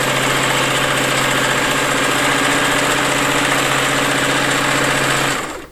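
A sewing machine stitches fabric with a loud, fast, continuous mechanical whir and rapid needle chatter, running steadily for several seconds before stopping abruptly.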